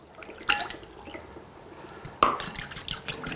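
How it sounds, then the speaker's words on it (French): Egg being mixed with ice-cold water, an ice cube and a tablespoon of vinegar in a dish, giving two sharp clinks and splashes about two seconds apart, followed by faint liquid stirring, with no talk. "Vous mélangez l'œuf et l'eau."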